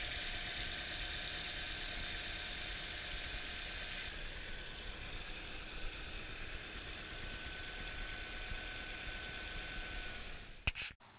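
A Toyota Prius engine idles nearby with a constant low hum and faint whine, ending in a brief clunk.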